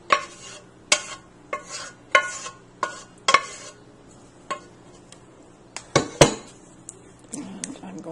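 A metal spoon scraping and clinking against a pan while scooping and spreading vegetable lasagna filling, a series of irregular sharp clanks and scrapes, close and fairly loud, with quiet gaps between strokes.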